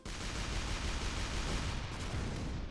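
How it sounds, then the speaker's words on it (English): A Gatling gun firing in the artillery game ShellShock Live, a continuous dense roar of rapid shots that holds steady throughout at moderate, distant-sounding volume. "Gatling gun?"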